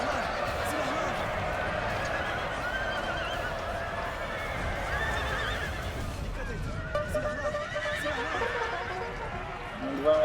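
Cavalry horses neighing and whinnying in the Napoleon: Total War battle game, several calls layered over continuous battle noise and hoof clatter, with someone commentating throughout.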